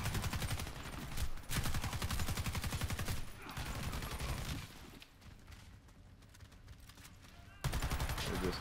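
Rapid automatic gunfire from a Beretta MX4 Storm and other weapons rattles in dense bursts during a Warface match, breaking off briefly and then resuming loud, with a few voices in the background.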